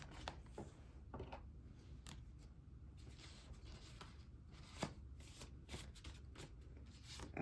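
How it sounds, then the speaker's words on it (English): A deck of playing cards shuffled by hand nearby, giving repeated soft riffling bursts and flutters through a quiet stretch of handling with no talking. "Let me get my cards together."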